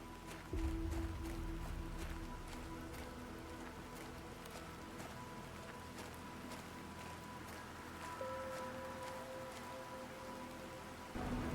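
In the survival video game The Planet Crafter, rain falls as a steady, dense hiss that holds evenly throughout, with faint tonal hums from the game underneath.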